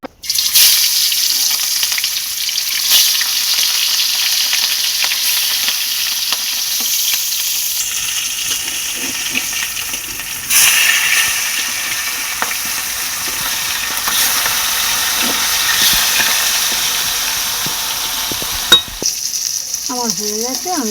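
Fish sizzles steadily in hot oil in a home kitchen pan, with salt sprinkled in, a loud continuous crackle with a few stirring clinks, a brief louder burst near the end and no talking.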